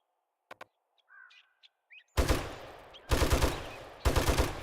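A vehicle-mounted gun turret in the game 7 Days to Die fires three loud bursts of rapid automatic gunfire, each cutting off abruptly, after a few faint clicks and small sounds.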